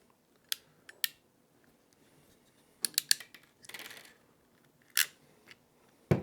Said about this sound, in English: Now when we go to crimp it, it'll cut all these off and make a nice clean connection.